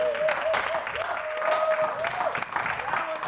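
A church congregation applauding: dense, steady clapping from a crowd with a sustained vocal tone over the top.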